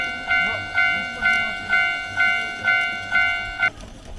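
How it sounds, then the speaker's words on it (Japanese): An orange train of the old Chuo Line arrives, sounding a repeated two-tone horn blast in a steady rhythm of about seven beeps, clear and fairly close, then cutting off into quieter background noise. "ほら、オレンジの電車来た。"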